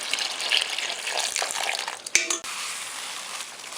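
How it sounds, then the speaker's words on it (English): Water gushes from a tap into a cooking pot for making quinoa, a close, steady splashing pour with a brief clunk partway through, no voices. "We're gonna add a shit ton of water."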